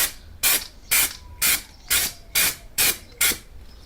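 An aerosol can sprays Blackson underbody coating onto a Ford Escort 1300GT in seven quick, evenly spaced hissing bursts with short pauses between, loud and close.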